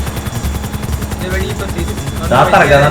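A helicopter in the video game GTA 5 Online thumps steadily in a rapid pulsing rotor rhythm, joined near the end by a louder burst of noise, with voices talking over it.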